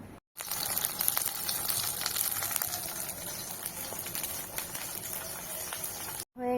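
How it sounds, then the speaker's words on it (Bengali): Fish frying in a pan in a home kitchen gives a steady, fairly quiet sizzle with crackling oil, running evenly throughout with brief pauses at start and end. "হয়ে গেছে আমার মাছ ভাজা,"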